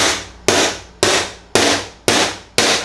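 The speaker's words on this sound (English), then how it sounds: "made my hole in the flue pipe" A screwdriver is driven through a metal flue pipe while installing a Rinnai Demand Duo R series water heater, giving five sharp, loud impacts about half a second apart, each ringing briefly before the next strike.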